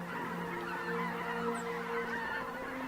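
Geese honking continuously in a flock in the Yukon delta, a layered chorus of calls at moderate distance with a steady outdoor background.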